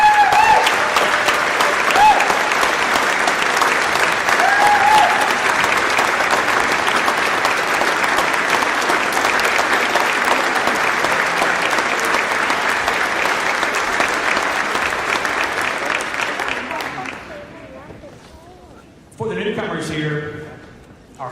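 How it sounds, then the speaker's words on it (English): Members of the Texas Legislature, gathered for the opening of the 88th session, give a long, loud round of applause that rolls steadily for about seventeen seconds, then fades, followed by a brief burst of noise near the end. "Members, let's give them a round of applause."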